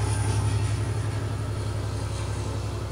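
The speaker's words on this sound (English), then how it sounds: "That was a train." A train rolls past at close range, a loud, steady rumble with a low droning hum that holds evenly for about three seconds with no voices.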